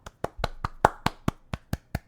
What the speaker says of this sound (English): It's the sound of one person clapping for you